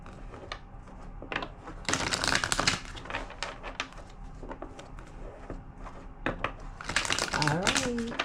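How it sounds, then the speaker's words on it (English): A tarot card deck being shuffled, giving close crinkly riffling bursts and scattered taps, with a voice speaking briefly near the end. "Two more shuffles."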